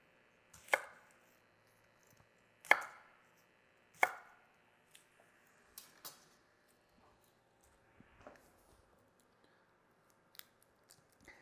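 A knife chops a shallot on a cutting board, with three sharp, loud cuts early on followed by several lighter, scattered taps, all close and with no voices.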